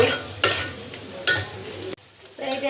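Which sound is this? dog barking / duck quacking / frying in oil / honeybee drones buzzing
frying in oil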